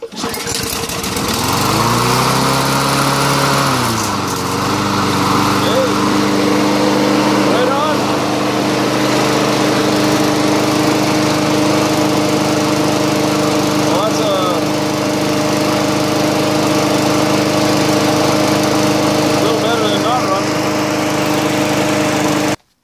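A small Briggs & Stratton gasoline engine running on mixed gas runs steadily up close, its pitch briefly dipping and climbing before holding a constant buzzing drone.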